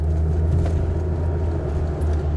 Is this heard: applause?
no